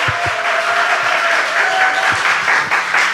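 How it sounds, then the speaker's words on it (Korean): A packed church congregation at a Friday prayer service claps steadily together, a dense, even wash of applause that carries on throughout. "우리 격려의 박수 보내주세요."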